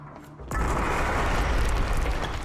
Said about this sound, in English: Are they gonna mention the new explosion?